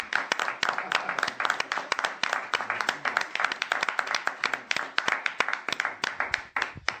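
Church congregation clapping and applauding, a dense run of sharp hand claps near and loud throughout, in a fast steady rhythm that carries on without a break.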